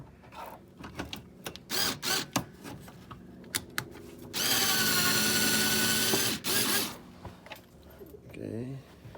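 Power drill driving stock 7mm bolts into a carbon fiber diffuser on a C7 Z06 Corvette, with short whirring bursts followed by a long continuous loud run, then a ratcheting rattle near the end.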